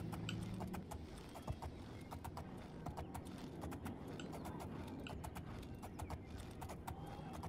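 Steady clip-clop of a horse's hooves in the video game Oblivion, brisk and continuous at close range, layered over a busy game soundscape with no talking.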